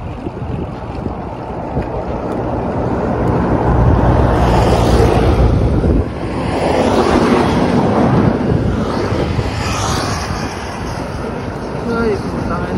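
Strong wind roaring across the microphone of a cyclist riding solo on a North Luzon loop, a loud continuous rush that swells and dips for the whole stretch.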